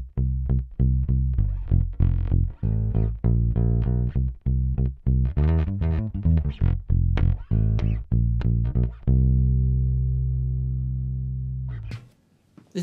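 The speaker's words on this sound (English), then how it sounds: "So this is the bass with the volume up full and the tone up full." A Squier CV60s Mustang electric bass, volume and tone both full, plays a sequence of plucked notes, loud and close, with a bright, punchy attack, ending on a long sustained note that fades out.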